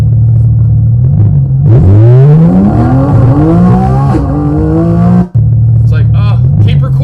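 Mid-engined car heard from inside the cabin, its engine revving hard up toward 9,000 rpm in a loud, rising climb over a few seconds before abruptly cutting off, with low idle droning before and after.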